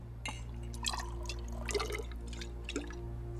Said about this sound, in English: start off with 5 milliliters of distilled water